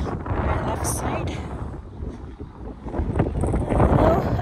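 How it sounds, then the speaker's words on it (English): Strong, cold wind buffets the microphone in loud, rumbling gusts at a park in Leduc, Alberta, with a voice speaking faintly in the blustery roar. "Wow, it's windy and it's cold."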